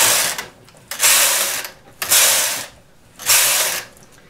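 Knitting machine carriage sliding across the needle bed to knit rows of a chunky woven cable piece, three loud rasping passes each about half a second long, separated by short pauses, with no talk.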